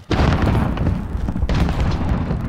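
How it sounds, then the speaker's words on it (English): Gunfire in Call of Duty Warzone, loud, dense booming shots and blasts packed closely together, with a fresh heavy burst about midway through, close and overpowering. "we're getting shot at from the building now"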